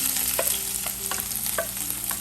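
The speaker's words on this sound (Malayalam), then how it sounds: "ഇച്ചിരി ജിഞ്ചർ ഗാർലിക് പേസ്റ്റും എല്ലാം ഒന്ന് ജസ്റ്റ് ഒന്ന് സോട്ട് ചെയ്യാം" Chopped onion, three green chillies and ginger garlic paste sauté in hot oil for a home-style tomato curry, giving a continuous close sizzle broken by several light scraping stirs, with no talking.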